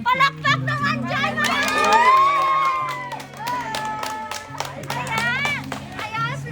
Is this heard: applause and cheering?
yes